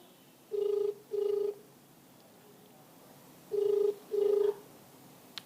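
Telephone ringback heard while dialing into a live phone line for a TV interview: two pairs of steady electronic ring tones, each burst under a second, with a long quiet gap between the pairs over faint line hiss.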